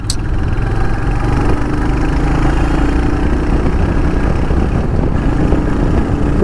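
A Royal Enfield Hunter 350 motorcycle, 2025 model, runs with a steady low exhaust thrum at a constant idle-like pace, loud and close, with no talk.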